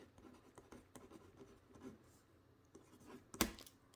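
A Kuru Toga mechanical pencil scratches softly across paper in short close strokes, ending in a sharp louder click as the lead snaps.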